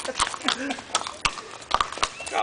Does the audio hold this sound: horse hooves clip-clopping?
yes